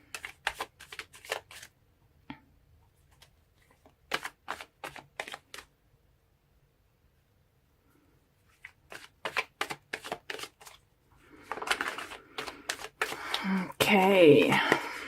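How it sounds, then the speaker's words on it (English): Tarot cards shuffled and pulled during a love reading, giving clusters of crisp flicking and riffling snaps in bursts, with quiet pauses between and a louder, denser shuffle at the end; no one speaks. "So let's pull more cards and see what we can get."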